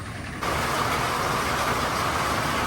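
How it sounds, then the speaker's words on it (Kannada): At a KSRTC bus stand in Kerala, bus engines rumble loudly and steadily. The sound swells suddenly near the start, then holds a constant, heavy idling drone. "ಇದೆ KSRTC ಬಸ್ ಸ್ಟ್ಯಾಂಡ್"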